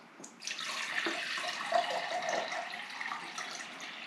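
Tap water running steadily into a pot for sugar syrup while preparing cranberry sauce for canning, a continuous close splashing rush that starts abruptly and stays even.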